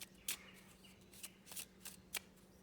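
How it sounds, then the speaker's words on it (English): Magic: The Gathering cards from an old Ice Age deck are shuffled by hand at close range, giving a series of quick, faint riffling bursts with a low hum beneath and no voices. "I think this was one of the more common methods of shuffling back in the day."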